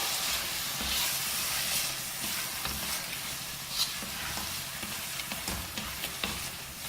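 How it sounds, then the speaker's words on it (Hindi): Peas and eggs frying in a pan for a matar anda dish, a steady close sizzle with soft stirring scrapes throughout, no voices. "अंडे ऐड करने के बाद हम इसे भूनेंगे।"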